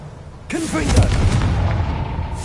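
A Confringo fire spell is cast in Hogwarts Legacy, producing a sudden loud blast at half a second that rumbles on through the rest of the short clip.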